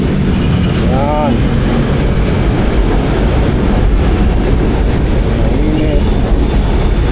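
An LRT1 light rail train rumbles on the elevated track overhead as a loud, steady roar that fills the whole stretch. A person speaks briefly under the noise.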